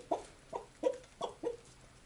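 A young crested rooster, just caught by hand, gives five short, clear clucks in an even rhythm, close and fairly quiet, with no other sounds around.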